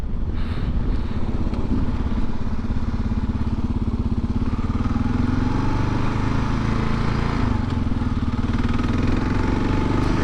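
A Kawasaki KLR dual-sport motorcycle on the move, its single-cylinder engine thumping loudly and continuously with rushing wind and a slight rise in pitch as it rides along.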